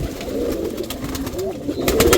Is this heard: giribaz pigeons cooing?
yes